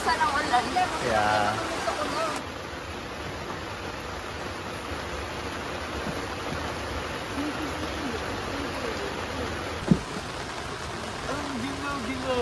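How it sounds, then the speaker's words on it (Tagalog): Steady rain falls outdoors as a broad, even hiss that carries on throughout, with a single sharp knock near the end. "Ngayon guys, dito muna kami. Kasi umuulan pa."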